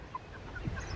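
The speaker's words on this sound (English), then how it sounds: "I did not see the chicken." A chicken outdoors gives a few soft, short clucks close by over low background rumble, brief and fairly quiet.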